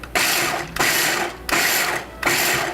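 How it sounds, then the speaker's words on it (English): A food processor pulses while grinding ingredients for a quick bread, giving four loud, whirring mechanical bursts, each under a second long, separated by brief gaps, close by with no talking. "And grind them up just a tad more because I don't like to have big chunks in my bread."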